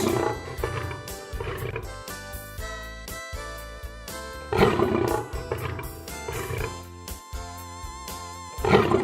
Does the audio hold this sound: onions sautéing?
no